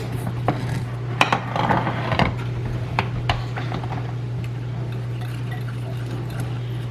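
A spoon stirs dinner muffin batter in a bowl, with scattered light clinks and taps against the bowl's side, close but soft over a steady low hum, and no talking.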